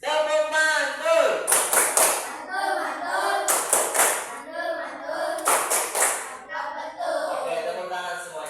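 A school class claps hands together in a rhythm game, short bursts of group clapping in three clusters between a teacher's speech.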